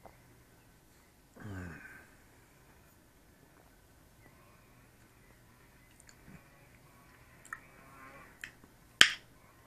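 A single sharp finger snap rings out close by near the end, following mostly quiet room tone with a brief murmur of voice earlier.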